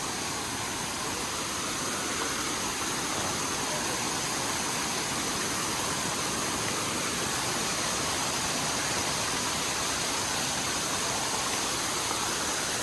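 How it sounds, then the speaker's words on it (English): Snowmelt waterfall roaring along the Upper Yosemite Falls Trail, a steady broadband rush of falling water that holds constant throughout with no voices. "all of that snow melts turning into these beautiful waterfalls all along the trail"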